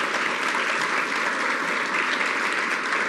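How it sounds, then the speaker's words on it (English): An audience at a governor's budget presentation in Hempstead, New York bursts into sustained, even applause, a dense wash of clapping with no break and no talk. "Stand up and take a round of applause because this is a very big deal."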